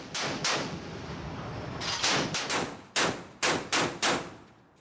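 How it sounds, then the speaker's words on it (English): A Mark 38 naval gun mount's 25mm chain gun fires a string of loud, sharp reports, closely bunched at first and then in evenly spaced single shots, each with a short ringing tail. "This next-generation weapon can mount a 25mm chain gun capable of firing more than 200 rounds per minute."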